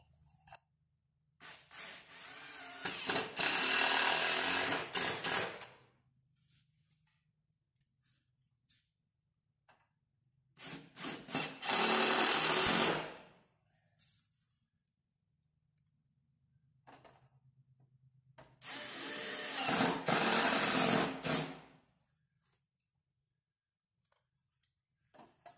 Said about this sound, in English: And I'll just use some sheetrock screws